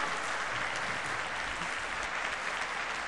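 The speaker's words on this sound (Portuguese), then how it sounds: "Agora aplauda, minha irmã." A church congregation claps steadily and evenly throughout a worship service, a dense wash of applause with no talking over it.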